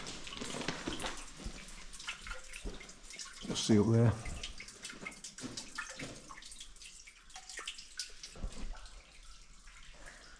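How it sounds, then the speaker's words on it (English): Water runs and drips inside the damp Haddon Tunnel, fed by an underground spring, a steady echoing trickle with a louder splash near the middle as a voice speaks briefly. "there's quite a bit of water running in here, possibly from an underground spring"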